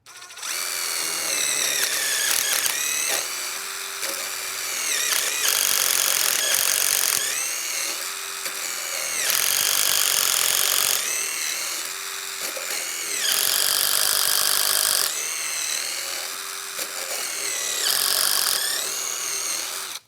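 A DeWalt drill boring into wood with a half-inch paddle bit, a loud whining drive that rises and falls in several long bursts, with grinding and chattering as the bit cuts through.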